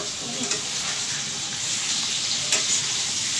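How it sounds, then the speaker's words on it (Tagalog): Liver sizzles in a hot frying pan while Batangas-style lomi is cooked, a steady close crackling hiss with small pops and stirring clatter throughout, no speech over it. "Hindi pwedeng iprito ng matagal."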